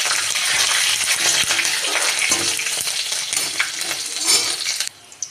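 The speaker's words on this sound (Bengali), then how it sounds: "তেলটা ভালোভাবে গরম হয়ে গেছে। ফোড়নে দেবো গোটা জিরে" Whole cumin seeds and slit green chillies frying in hot oil for a lentil dish, a loud, dense, continuous close sizzle with crackling that drops off abruptly near the end.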